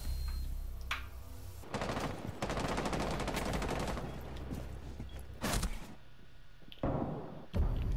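Shotgun and gunfire in Rainbow Six Siege, several loud bursts and sharp blasts spaced across the moment with quieter gaps between, no clear talking.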